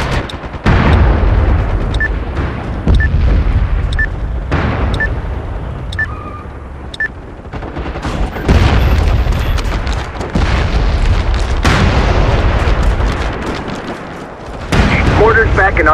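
Repeated heavy booms and bursts of gunfire in the online shooter MAG on PS3, some very loud and close, with voices shouting over the battle.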